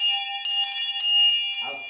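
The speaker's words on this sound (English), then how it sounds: "We start school at 8 o'clock in the morning with the ringing of the bell" A bell on a one-room schoolhouse rings the start of the school day at eight in the morning, with a few bright, sustained strokes that ring out clearly and alone before fading.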